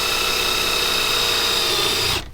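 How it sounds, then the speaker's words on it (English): A power drill bores a hole at a maple farm, with a loud, steady motor whine held close for a couple of seconds before it abruptly winds down and stops. "Let's drill a hole."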